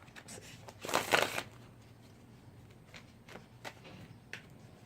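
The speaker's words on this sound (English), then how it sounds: "my shuffling is all off today" Tarot cards being shuffled by hand, one loud riffling burst near the start followed by several softer, brief card flicks and taps spread over the rest.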